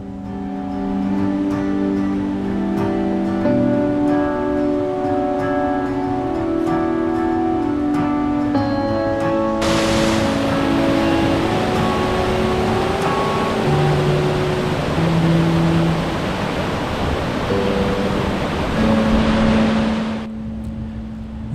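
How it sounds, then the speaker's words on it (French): The vigorous Escales mountain stream in the Siguer valley of Ariège rushes abundantly near a footbridge. Its steady broadband roar swells in for about ten seconds mid-clip, laid over continuous background music. "Le ruisseau d'Escales est déjà bien vigoureux en cette période et coule abondamment."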